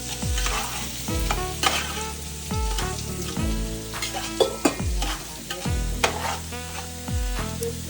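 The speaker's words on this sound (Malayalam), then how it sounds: "ബിരിയാണിയുടെ ടോപ്പിംഗ് ചെയ്യാനുള്ള ഉള്ളി ഫ്രൈ ആയിക്കൊണ്ടിരിക്കുകയാണ്" Onions fry in hot oil for a Kerala dum biryani topping, a continuous crackling sizzle broken by repeated metallic stirring strokes of a spoon against the pan.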